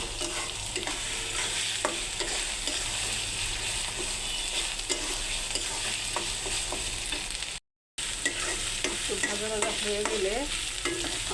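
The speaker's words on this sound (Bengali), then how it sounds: "কাঁচামরিচ বাটা কিছুক্ষণ নাড়াচাড়া করার পর এটা যখন একটু ভাজা ভাজা হয়ে যাবে" Green chilli paste stirs and fries in a pan for a chicken curry cooked with ground spices, a steady close sizzle broken by repeated scraping strokes of the spoon, running without talk apart from a short gap near the end.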